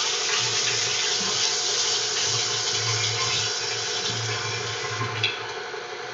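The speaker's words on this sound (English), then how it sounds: "I'm going to wash my hands" Hands are washed under a running kitchen tap during cookie baking, and the water streams in a continuous, fairly loud rush with slight splashing changes throughout and no speech.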